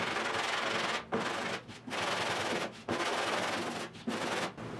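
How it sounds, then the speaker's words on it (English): A 1972 Triumph GT6 body panel is sanded down to bare metal, loud close rasping strokes in steady bursts separated by brief pauses, with no talk. "I'm gonna keep sanding here to bare metal"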